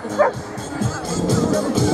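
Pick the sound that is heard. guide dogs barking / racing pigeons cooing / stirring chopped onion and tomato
guide dogs barking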